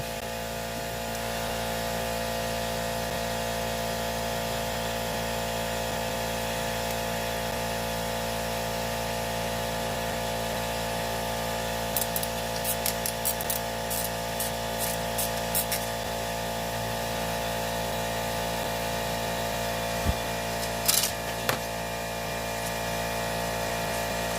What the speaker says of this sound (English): Oh, there's my compressor. I usually don't leave it on.